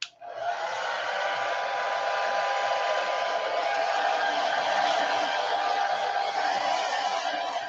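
A handheld hair dryer blows steadily to dry paint on a gelli print, switching on abruptly and then holding one loud, even whir close by for several seconds with no talking.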